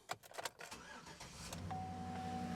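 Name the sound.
car engine starting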